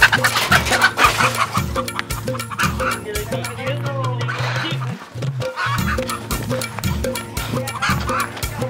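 A rooster being chased around a field at a village gathering gives repeated loud clucks and squawks, with dogs barking in rhythmic bursts throughout and some voices in the background.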